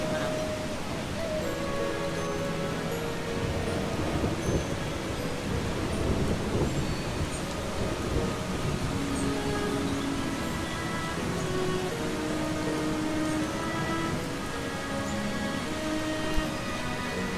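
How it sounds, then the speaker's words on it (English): Thunderstorm in the video game Eastshade: continuous rain hiss with low rumbling swells, layered under gentle sustained musical notes, fairly even in loudness throughout. "I like thunderstorms in real life, but in video games it can be loud."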